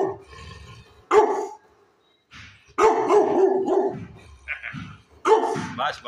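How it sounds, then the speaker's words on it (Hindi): A small three-year-old dog barks in short, sharp yaps, several loud, close bursts with a few softer whimpering sounds between them, while someone speaks alongside. "मैं आपको प्यारा सा डॉगी दिखाता हूँ। छोटा सा डॉगी है"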